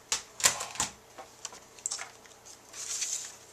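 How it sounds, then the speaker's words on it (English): A scallop paper punch cuts through Whisper White cardstock with a few sharp clicks and crunches near the start. Fainter rustling and handling of the paper follow, and no one talks. "using our scallop punch, I'm just going to go ahead and punch out one scallop."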